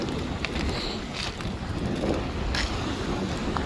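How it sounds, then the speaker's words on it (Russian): A warm southerly wind blows in off the sea at Arkhipo-Osipovka in slightly stormy weather, buffeting the microphone with continuous loud rushing and gusts. No one speaks. "Сейчас с моря ветер дует, то есть южный."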